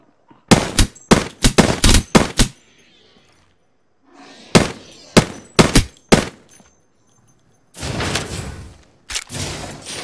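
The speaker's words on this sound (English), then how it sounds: "The enemies are shooting at me." Enemy gunfire in Apex Legends, loud bursts of rapid shots in several clusters separated by short pauses, close and sharp, with a longer sustained burst near the end and no talk.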